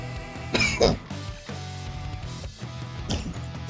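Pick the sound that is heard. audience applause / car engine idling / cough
cough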